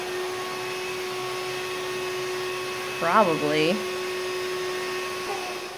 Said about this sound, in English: So what's great about this vacuum is it is cordless and lightweight.